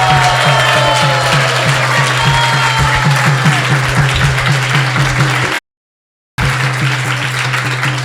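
An indoor audience at a Vyasa Puja celebration applauds the children: loud, dense clapping that goes on without a break, cuts out briefly and then comes back just as strong, over a steady low hum.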